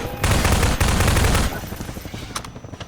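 Rapid automatic machine gun fire in the video game Half-Life 2, a loud dense burst of shots for about a second and a half, then scattered quieter game sounds.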